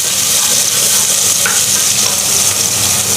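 Chopped medium onion and green chillies fry in hot oil with a loud, close, steady sizzle while being stirred.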